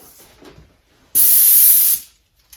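An airless paint sprayer releases a loud, steady burst of spray hiss lasting under a second, starting abruptly and then tapering off, after a quieter stretch.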